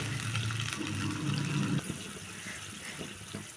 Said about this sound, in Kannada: ನೋಡಿ ಇವಾಗ ಕುದಿತಾ ಐತಿ